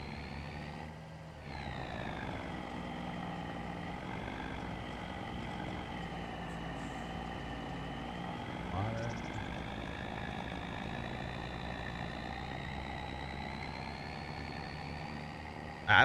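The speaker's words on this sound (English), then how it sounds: "I really like the sound of this truck too" In Farming Simulator 25, a truck engine idles in a steady, even drone with a faint whine on top, continuous and fairly quiet, briefly shifting mid-way before a sharp click at the end.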